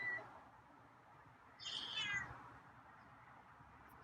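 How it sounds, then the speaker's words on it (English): Scruffy, a feral cat, gives a single faint, rising meow over a low background hum. "Wow, it's a nice set of meows."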